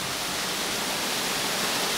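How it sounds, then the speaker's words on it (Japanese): A waterfall spilling inside a cave-like grotto at Singapore Botanic Gardens, a dense, steady hiss of falling water heard close and loud throughout, with no voices over it. "おお、滝が流れてる。"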